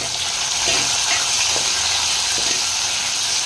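Tomatoes dropped into a pan of onions browned in oil, giving a steady, loud sizzle and hiss with faint stirring scrapes underneath and no break throughout.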